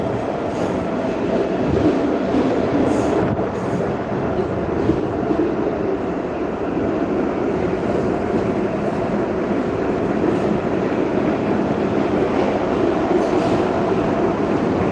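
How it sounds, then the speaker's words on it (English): A Moscow metro train on the red line runs loud and continuous, with a steady roar of wheels and rumbling carriages throughout and no talk. "Let me show you guys around the metro."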